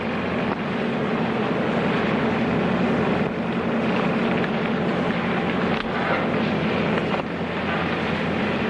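Steady engine drone heard inside the cabin of a passenger plane, a continuous broadband rumble with a low hum that stays even and unbroken throughout, no voices.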